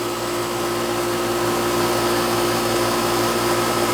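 An old Goodman R22 air-conditioning condenser runs with a loud, steady motor-and-fan drone and a constant hum, unchanging throughout with no voices.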